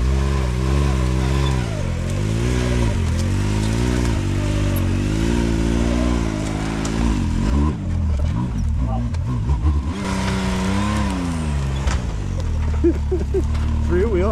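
A three-wheeler's engine revs hard and close as it climbs a steep hill, its pitch rising and falling continuously over the whole stretch, with voices mixed in.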